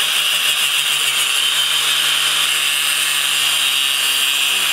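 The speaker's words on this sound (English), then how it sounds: "I'm gonna cut one of these sides off and re-weld it in a different position" A power tool cuts through a metal gear-shifter piece on a go-kart, giving a continuous, close, high-pitched grinding whine that runs steadily throughout.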